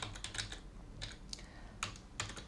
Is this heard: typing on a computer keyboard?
yes